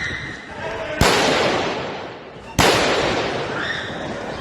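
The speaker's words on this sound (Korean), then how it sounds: "도심에서 갑자기 들려온 총소리에 놀라 달아나는 겁니다" Two loud, sharp gunshots ring out in an open city street in Europe, well spaced, each followed by a long echoing decay off surrounding buildings.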